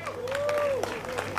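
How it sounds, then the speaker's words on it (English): At a reggae concert in Jamaica, an audience applauds a dub poet's performance, and the scattered clapping of a crowd runs under a voice. "Give him another big round of applause, man."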